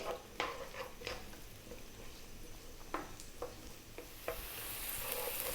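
Onion and garlic sizzle in olive oil in a pan over medium heat, a soft steady fry broken by a few distinct stirring scrapes and taps.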